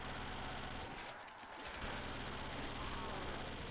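Hip-fired gunfire in Call of Duty World at War custom zombies on the Dale's Dock map rattles in dense, continuous bursts, briefly dipping before resuming, loud and busy with game noise throughout.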